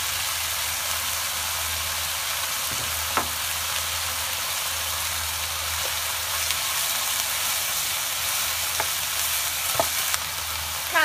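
Continuous sizzling and hissing of sliced ginger and chili stir-fried in a hot pan, with occasional scraping clinks of a utensil, no voices.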